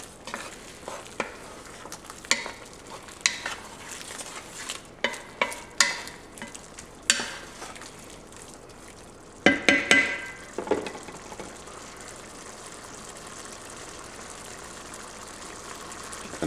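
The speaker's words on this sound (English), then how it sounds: "And we're going to give this a quick stir." Crawfish etouffee stirred in a pot after Cajun spices, garlic powder, black pepper and red pepper go in, a run of close scraping stirs with a soft bubbling sizzle underneath, then a steadier simmer, no voices.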